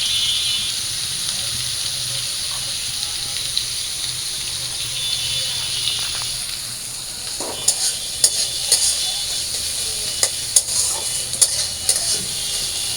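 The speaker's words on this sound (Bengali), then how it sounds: "তো আমি পেঁয়াজ মরিচগুলো ভালো করে ভাইজে নিই" Onions and chillies frying in a pan give a steady sizzling hiss, broken in the second half by a few sharp clicks and scrapes of stirring.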